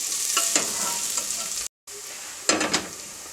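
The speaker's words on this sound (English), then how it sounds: "I'm going to carry on stirring, cook it for about 1 minute so the ginger has an opportunity to cook and brown off" Onions, garlic, ginger and chilli fry and sizzle steadily in a pan as they are stirred, with scraping strokes of the spoon, a brief silent gap, then a louder burst of stirring near the end.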